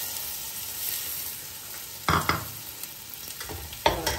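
Mutton mixed with garam masala and crushed cumin in a pot, a soft constant sizzle broken by a few sharp scraping strokes of a spoon against the metal, near and without speech.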